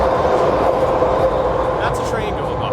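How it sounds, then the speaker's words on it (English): A train passes near a lake where someone is fishing, a steady low rumble with rail clatter that stays loud and even, with faint rattling and squeaks toward the end. "That's a train going by."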